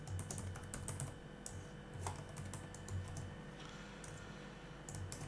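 Someone types a password quickly on a computer keyboard, tapping keys in bursts of soft, close clicks with short pauses between them. The room is otherwise quiet.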